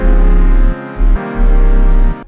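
An 808 bass line with a squared-off hold envelope plays in an FL Studio beat, loud sustained notes that cut off abruptly between hits, over a bright melodic layer.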